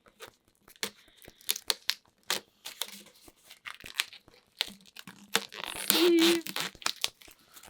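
Plastic wrapping torn and crinkled off a Berserk Deluxe hardcover book, a run of close, sharp rips and crackles that grow denser and louder toward the end.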